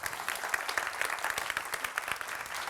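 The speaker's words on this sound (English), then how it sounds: "Another round of applause for Hossam" An audience at a science communication competition semi-final applauds, a steady patter of many hands clapping, moderately distant and continuous throughout.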